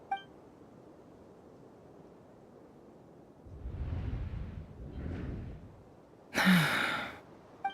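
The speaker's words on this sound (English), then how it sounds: "I heard Yehuda gasp" A Genshin Impact character gasps, a breathy sharp intake of air heard alone over quiet game ambience, with soft whooshing breaths before it and a bright chiming interface tone near the end.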